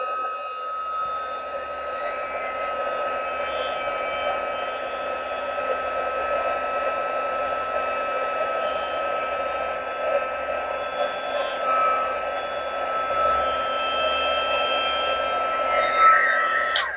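A heat tool for embossing blows hot air onto a card, a steady close whirring fan hiss that holds evenly for about seventeen seconds with no talking, ending with a brief click as it switches off.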